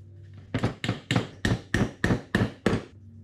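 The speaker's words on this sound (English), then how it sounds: "You get to hit something with a hammer" Eight steady, evenly spaced hammer blows drive Domino tenons into the frame of a farmhouse dining table while the glue is still wet, each one a sharp, close, solid knock.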